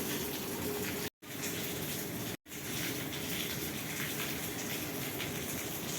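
Heavy rain pours down in Ahmedabad as a steady, dense hiss of falling water, broken twice by brief total dropouts, with no voices.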